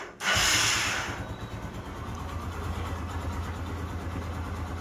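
A motorcycle engine runs after an engine rebuild. A loud hissing burst at startup settles into a steady, close idle with a low, even pulsing throb.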